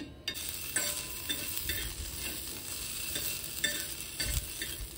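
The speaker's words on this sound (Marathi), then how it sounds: "हे थोडंसं मी तव्यामध्येच परतवून घेते." Soft frying sizzle of homemade paneer on a griddle pan, with repeated scraping of a spatula stirring it around, steady and fairly quiet, no voices.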